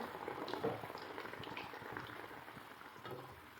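Wheat-flour veg puffs fry in hot oil in a pan, giving a soft, steady bubbling sizzle that stays fairly quiet, with no talking.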